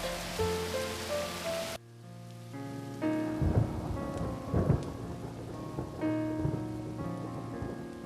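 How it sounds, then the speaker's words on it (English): A thunderstorm with heavy rain pattering steadily on surfaces, rumbling thunder rolling through in several swells, and wind; loud and close, with no talk. "A storm like that will keep us all indoors."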